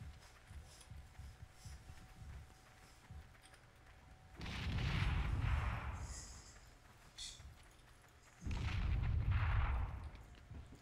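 Grenades explode in the online war shooter Heroes & Generals: two heavy, rumbling blasts a few seconds apart, each swelling and lingering for about two seconds over quieter background game noise.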